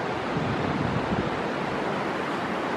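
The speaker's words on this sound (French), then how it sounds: "je vais vous laisser profiter en silence du bruit du torrent" Steady, full-bodied rush of a mountain torrent in the Ardèche, loud and continuous, water roaring without a break and no voices.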